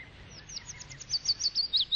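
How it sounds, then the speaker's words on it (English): Songbirds singing in English countryside, a run of high, rapid chirps growing louder and more frequent over a quiet, faintly rumbling background. "Birds too are raising their next generation and singing out their territorial claims"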